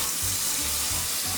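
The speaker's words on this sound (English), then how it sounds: "Let's drain it. Okay, now we gotta run it with cold water." Cold tap water runs steadily over freshly cooked Japanese udon noodles draining in a kitchen sink, a continuous near hiss and splash with faint low gurgles.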